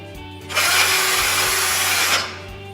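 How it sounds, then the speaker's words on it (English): A power drill whirs loudly for about a second and a half, drilling mounting holes for a saw, running at a steady high speed before winding down. "we're going to drill the holes."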